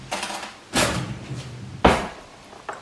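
A fork scraping and tearing the soft middle out of a bread roll to hollow it for bunny chow, heard as a few close, brief scuffing bursts with quiet pauses between them.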